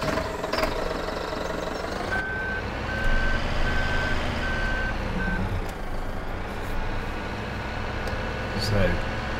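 A Manitou telehandler in the Farming Simulator 2017 farm game runs with a continuous engine drone and regular reversing beeps through the middle, while a player talks over it.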